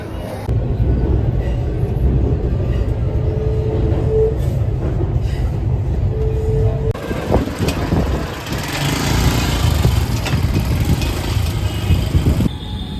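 A metro train rumbles and roars steadily throughout, with rattling carriage noise and a faint squeal, no voices standing out.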